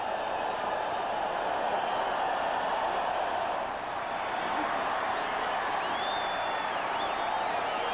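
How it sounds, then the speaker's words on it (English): A stadium crowd at a 1986 Raiders at Chiefs football game, with a steady, loud, broad roar of many voices rising as fans do the wave, continuous and distant-sounding throughout. "The crowd starts up with a wave now, trying to inspire the Chiefs"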